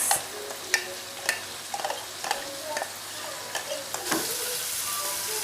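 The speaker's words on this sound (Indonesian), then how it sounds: "Selanjutnya kita tumis bumbu halus." Ground spice paste of shallot, garlic, candlenut and turmeric frying in a pan for beef tongseng, making a close crackling sizzle broken by several sharp utensil clicks and scrapes as it is stirred.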